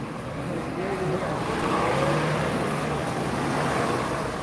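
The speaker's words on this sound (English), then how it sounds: "There's another double-decker bus coming" A double-decker city bus rolls past on an Ottawa street on a December evening, its steady engine rumble swelling and holding amid traffic noise over four and a half seconds.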